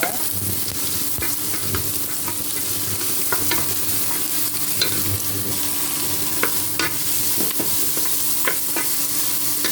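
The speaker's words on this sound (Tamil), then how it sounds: "வெங்காயம் வந்து நல்லா வதக்கி விடணுங்க" About 150 grams of finely chopped large onions sautéing in a pan for a green gram gravy, a constant close sizzle punctuated by frequent spatula scrapes and taps, with no speech.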